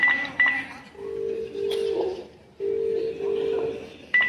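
A phone places an outgoing call, a few short beeps followed by two long, evenly spaced ringback tones with gaps between them, close and clear, with brief faint sounds in the background.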